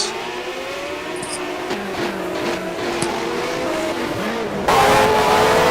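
Formula One race cars, a Tyrrell and a Brabham at the 1991 Brazilian Grand Prix, howl past with a steady high engine drone, the pitch shifting as a louder car closes in near the end.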